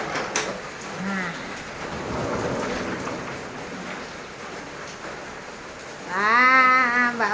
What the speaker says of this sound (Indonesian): hujan-hujan nih, di Sepatan hujan terus